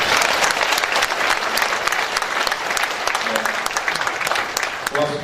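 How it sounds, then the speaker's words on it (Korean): An audience at a Gyeonggi provincial party members' education event in Uijeongbu claps in thanks, a thick burst of applause that gradually thins, with a voice briefly emerging near the end. "의정부에서 고생하시는 두 분께 큰 특별한 감사의 박수 한번 부탁드립니다."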